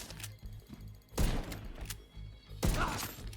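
Gunfire from the video game The Division 2, shot with an 1886 rifle build, comes as two loud, booming shots about a second and a half apart over busy in-game background noise.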